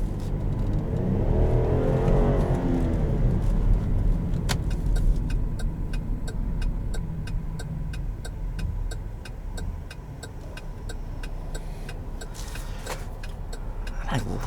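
A 2017 Buick Enclave with GM's 3.6 engine drives along, a steady low engine drone and road rumble holding close and even throughout, with faint small clicks and rattles from the cabin.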